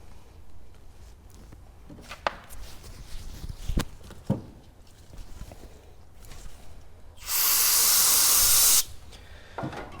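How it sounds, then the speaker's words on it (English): Brake cleaner sprayed onto a rag during a clutch job on a 2016+ Mazda MX-5 Miata, a loud hissing burst lasting about a second and a half after scattered workshop clinks and handling noises. "Have some brake cleaner on the rag."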